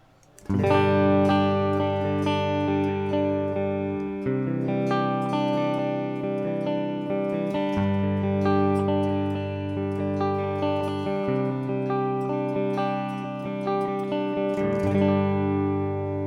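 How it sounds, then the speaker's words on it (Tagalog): An RJ Tone Master Deluxe electric guitar played through an audio interface with both pickups engaged rings out in sustained, bright chords that change every few seconds, each strum decaying smoothly into the next. "At ito yung tunog ng ating gitara na naka-hamba or parehas"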